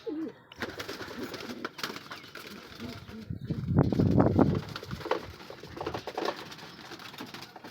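Soft pigeon cooing murmurs through the clip, swelling louder in the middle, with faint rustling and a person speaking briefly in the background.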